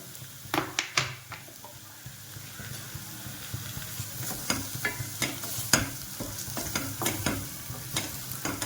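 Oil sizzling in a cooking pan while a spoon stirs and scrapes, sharp irregular clacks over a continuous frying hiss, close up and with no voices.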